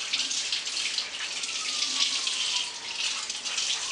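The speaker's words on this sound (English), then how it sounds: "So I'm just gonna wash my hands like this." Hands are washed under a running kitchen tap, a steady close hiss of flowing water with light splashing that continues throughout, with no talk.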